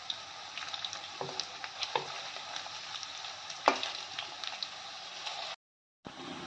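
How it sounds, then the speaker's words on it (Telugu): Fish pieces fry in hot oil, giving a steady close sizzle with scattered pops and crackles and a few louder spatters, before a brief dropout and a short return of the sizzle. "మంచిగా బ్రౌన్ కలర్ వచ్చే వరకు ఫ్రై అయినాయి."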